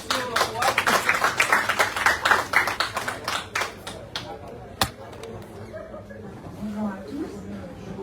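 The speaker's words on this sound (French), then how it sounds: "On l'applaudit aussi, on l'encourage." At a live public event in Guadeloupe, an audience claps for a presenter with distinct, fairly close claps from a modest crowd that thin out after a few seconds, leaving a murmur and occasional voices.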